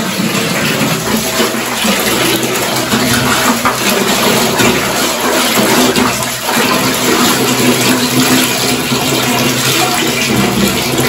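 Soapy washing water gushes and drains steadily out of a tub during hand laundry of clothes done the Nepali way, a loud, continuous broadband rush with no pauses throughout.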